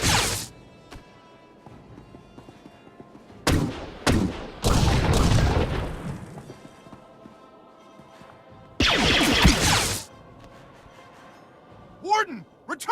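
Firefight in Star Wars: The Old Republic, with blaster and gunfire volleys arriving in loud clustered bursts, booms between them, quieter lulls, and voices speaking through the action.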